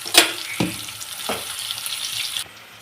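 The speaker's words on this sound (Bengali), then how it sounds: "দেখো আমি গরম তেলের মধ্যে পেঁয়াজ ছেড়ে দিলাম।" Onions dropped into hot oil for a chicken recipe, a few sharp crackling bursts over a steady sizzle, close and brief.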